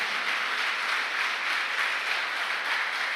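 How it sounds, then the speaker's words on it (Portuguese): A church congregation applauds loudly and steadily, a dense continuous wash of clapping with no breaks. "Vamos aplaudir Jesus bem forte"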